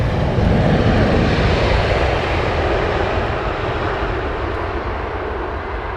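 An Air India airliner arriving on Heathrow runway 27R roars loudly overhead, a broad, rumbling jet engine wash that peaks early and slowly fades as the aircraft passes, with no voices.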